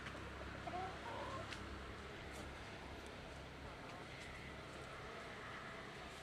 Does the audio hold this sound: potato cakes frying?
no